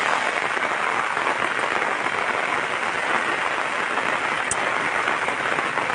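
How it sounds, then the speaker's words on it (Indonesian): Heavy rain pours steadily and loudly in Kabupaten Bone on a stormy afternoon, a dense unbroken hiss throughout, with one brief sharp crack near the end that may be lightning. "hujan deras ini disertai juga dengan kilat dan petir"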